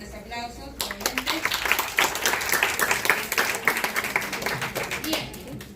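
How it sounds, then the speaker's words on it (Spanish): Audience applause fills an award presentation at a university, a dense, steady clatter of many hands that starts after a brief moment and holds loud and close throughout. "Fuertes aplausos, nuevamente."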